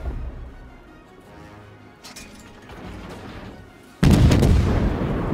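Naval guns fire HE shells in World of Warships, soft distant thuds followed by a sudden loud deep boom that sustains to the end, with a faint voice early on.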